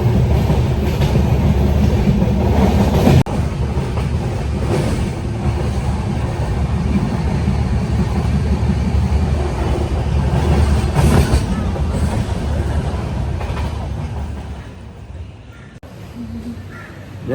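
A passenger train in India rumbles steadily along the rails with rhythmic clatter, heard from inside a sleeper carriage, loud and continuous, easing off toward the end.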